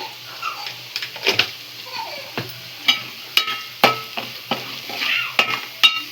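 Spices such as cumin powder, garam masala and salt are stirred into gongura chicken in a hot pan, with repeated sharp scraping strokes in an irregular rhythm over a soft, continuous sizzle, close and clear, with no talking.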